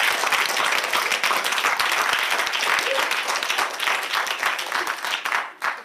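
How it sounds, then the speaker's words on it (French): A live studio audience at a Christmas Eve radio broadcast gives loud, dense applause, many hands clapping steadily close by before the clapping thins and breaks off near the end. "Bravo Axel, on peut l'applaudir"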